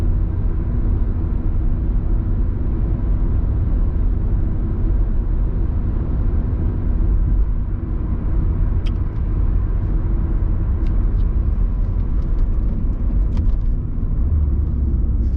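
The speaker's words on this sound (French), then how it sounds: "Il n'y a guère qu'en très légère accélération qu'on va ressentir un très léger niveau sonore sur cette auto" Steady low engine hum with road rumble inside a 2021 Renault Megane 4 Estate 1.5 dCi 115 diesel, soft and even throughout, rising very slightly under gentle acceleration; no voices.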